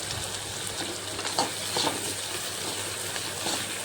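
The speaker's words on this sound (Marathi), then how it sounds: "थोडं मीडियम फ्लेमवरती हे चांगल्या प्रकारे शिजू द्यायचं।" Tomatoes frying in a pan on a medium flame during okra stir-fry cooking, a steady close sizzle with occasional stirring scrapes throughout.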